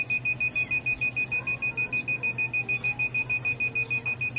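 An active buzzer on an Arduino, controlled by a photoresistor, beeps rapidly and steadily, a high-pitched tone pulsing in quick, even bursts over a low electrical hum.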